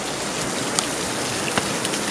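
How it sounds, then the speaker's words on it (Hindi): Water from a natural mountain spring near Khati village in the Himalaya flows with a continuous, even hiss and splash. A couple of brighter drips stand out, and no one speaks. "ये देखिए, ये कुछ प्राकृतिक स्रोत हैं जहाँ से पानी आ रहा है"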